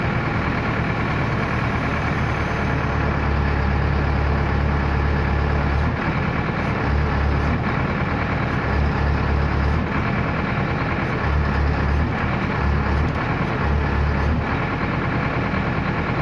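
A JCB backhoe's diesel engine idles steadily with a little throttle held on, a loud, continuous low rumble with faint periodic pulsing and no talk.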